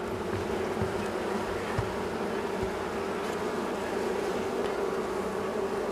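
Honeybees drone in a steady, dense buzz from an open hive holding a colony with two queens, close and continuous, with faint knocks of a wooden frame being handled.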